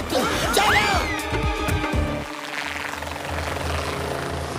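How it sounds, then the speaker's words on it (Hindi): A drone whirs in a cartoon sound effect. Quick whooshing sweeps come first, then a loud, steady helicopter-like rotor drone with no speech. "उस ड्रोन को फॉलो करते हैं, फिर पता चल जाएगा कि इसके पीछे कौन है।"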